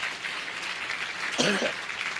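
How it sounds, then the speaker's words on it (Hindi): A church congregation claps to thank the Lord, a soft, dense patter of applause at moderate distance, with a brief voice cutting in near the end. "ताली बजाकर प्रभु का धन्यवाद दीजिए।"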